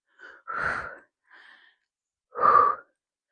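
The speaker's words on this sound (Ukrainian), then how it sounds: "І ще вдих і видих." Heavy exercise breathing during an ab workout: a sharp inhale, a softer breath, then a loud exhale, each a separate close burst with pauses between, no talking.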